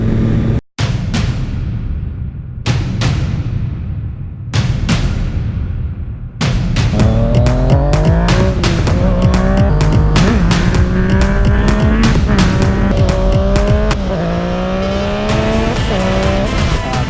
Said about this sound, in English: So this is the M4 exhaust.